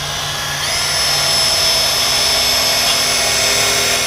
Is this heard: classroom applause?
no